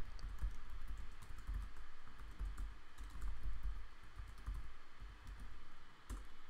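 Fast, continuous typing on a computer keyboard while coding a React weather app, with close, soft key clicks in an uneven rhythm under a low room hum.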